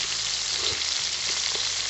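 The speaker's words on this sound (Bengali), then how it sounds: "চিংড়ি মাছগুলো হালকা করে ভেজে নেব, বেশি ভাজবো না।" Close, even sizzling as medium-sized prawns, just flipped, fry in a wok over a wood-burning stove, a constant hiss with a few soft pops and no talking.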